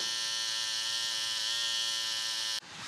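Bevel V2 electric trimmer buzzing steadily and close while lining up a mustache, a constant high electric whine that cuts off abruptly near the end.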